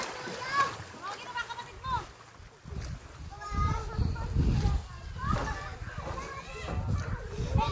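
Children bathing and splashing in water outdoors, with repeated splashes and the chatter and shouts of kids playing, close and fairly loud throughout.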